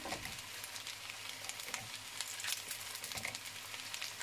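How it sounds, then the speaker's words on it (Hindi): Fries tossed into a pan of chicken spaghetti with peri peri sauce, giving a steady close frying sizzle with crackling bursts throughout, no voices. "तो अब हम इसमें डालेंगे फ्राइज।"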